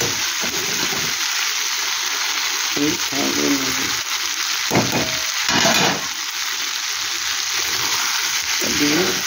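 Masala fries with potatoes and peas in a pan, giving a continuous loud sizzle broken by several scraping stirs of a spoon, with brief voice-like murmurs in the background.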